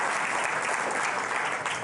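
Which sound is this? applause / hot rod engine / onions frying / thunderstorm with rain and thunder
applause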